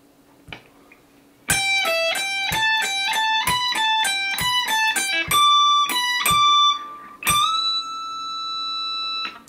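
Electric guitar notes picked on the high first string in a riff, loud and close: a quick run of separate plucked notes in a triplet rhythm, then longer ringing notes toward the end, with no one talking.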